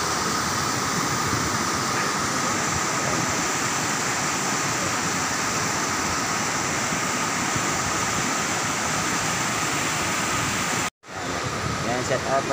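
Aliwagwag Falls gives off a steady, broad roar of rushing water that holds at an even level and cuts out briefly near the end, with no clear speech over it.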